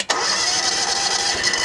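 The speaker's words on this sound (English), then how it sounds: "Let's fire this up again." An engine fitted with hydraulic pumps fires up with a sharp crank and catch, then settles into a loud, steady running drone close by, with no talk.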